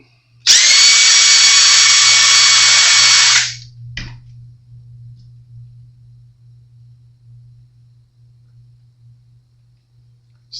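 An electric drill with a bit whines loudly and steadily for about three seconds, up close, then cuts off with a single knock, followed by quiet room hum while work continues on a Washburn BT 2 guitar.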